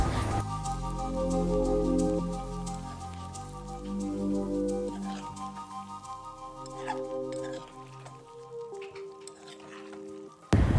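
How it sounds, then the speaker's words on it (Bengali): Kadai paneer gravy bubbles and sizzles steadily in a pan, a continuous close-up crackle with soft music playing underneath. "এই দেখুন ফুটে গেছে গ্রেভিটা।"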